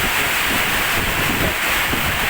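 Strong wind blowing during a rainstorm at the balcony of a house, a loud, steady broadband roar with gusty swells buffeting the microphone, continuous and close.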